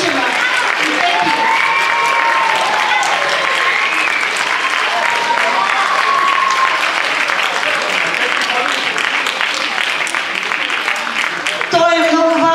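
A large audience claps loudly and continuously at the closing ceremony of a dance festival in Pernik, Bulgaria, with an announcer's voice heard over the applause and music near the end.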